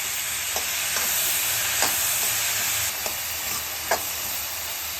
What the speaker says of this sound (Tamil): நல்லா கொஞ்சம் ஒரு 5 நிமிஷம் வதக்கினா போதும் உங்களுக்கு.